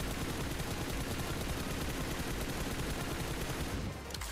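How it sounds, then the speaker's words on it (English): AK rifle spray in the mobile game PUBG Mobile, a dense, continuous burst of loud rapid gunfire filling the whole stretch before cutting off near the end. "Let me see the spray. Switches to the AK."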